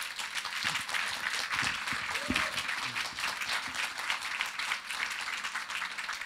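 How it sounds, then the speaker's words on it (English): Audience applause for the Star Citizen team at the PC Gamer Weekender, a steady, dense crowd clapping throughout with a faint voice or cheer rising briefly partway through. "Can we have a round of applause for the team?"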